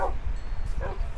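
Dogs barking in a video game battle against illagers, a couple of quick close yips and barks over a low rumbling game background.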